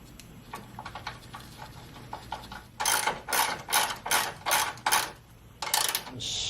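A hand ratchet snugs a bolt on the horn bracket of a 2012 Honda Civic, giving a rapid series of sharp metallic clicks in close, rhythmic strokes, with a low hum underneath.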